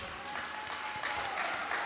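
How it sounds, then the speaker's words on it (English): Audience applause at a canoe festival prize ceremony after a girls' kayak race result, a short, moderate burst of clapping from a crowd that swells slightly toward the end. "Please give her a round of applause."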